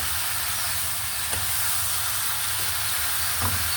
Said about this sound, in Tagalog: Then, we'll fry.